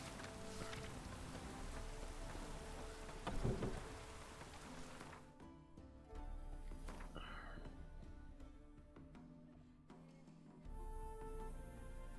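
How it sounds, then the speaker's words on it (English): Steady rain falling in the video game The Witcher 3, with a distant thunder rumble midway, soft and continuous under faint ambient game sound. "Rains like this come sowing time."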